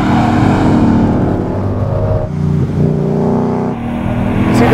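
A Ford Mustang RTR Spec 2 drives on a track, its engine droning loudly and steadily from inside the car at around 70 mph. The tone shifts slightly as the throttle changes.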